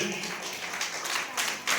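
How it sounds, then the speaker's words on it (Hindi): A church congregation claps loudly for the Lord, a dense, steady wash of many hands applauding together at close range. "प्रभु के जोरदार ताली बजाएंगे।"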